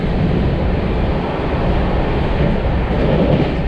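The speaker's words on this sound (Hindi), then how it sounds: "ये है अपनी ट्रेन की टॉप स्पीड" Ganga Nagar Express passenger train running at top speed of about 110 km/h between Delhi and Bathinda, a loud steady interior rumble and roar of wheels on rails, continuous throughout with no talking.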